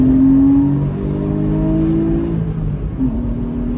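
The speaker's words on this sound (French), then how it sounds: "il faut aller pousser la voiture jusqu'à la zone rouge" A sports car engine on a Berlin street revs hard toward the red line, a loud close rising whine that peaks early and then eases off with a brief blip near the end.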